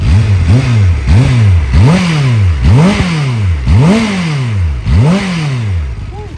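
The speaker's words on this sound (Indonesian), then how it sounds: "Buka dikit aja langsung bung bung. Suaranya mas," A Kawasaki ZX-10R motorcycle engine revs up and drops back in about seven loud, close, rhythmic bursts while sitting still, each rising snarl falling away before the next.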